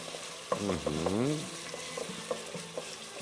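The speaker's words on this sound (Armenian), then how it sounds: "մի քիչ տապակենք այդ թթվայնությունը դուրս գա տոմատ մածուկի" Tomato paste fries and is stirred in a pan for a soup, making a close, steady sizzle with clinks and a brief whining tone near the start.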